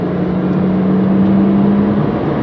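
A race car engine on the wet, drying Brands Hatch Indy circuit, a steady droning whir holding one low pitch as power is added, then easing slightly near the end, heard close and without voices.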